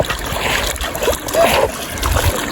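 Fast-rushing water at a riverside near the Chennamma temple at Neeppathurai, splashing and churning loudly and continuously nearby with a rough, noisy texture.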